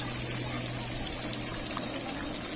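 Water flows at a wetland park in Itahari, eastern Nepal, a steady close trickling wash with a low hum underneath and faint voices nearby.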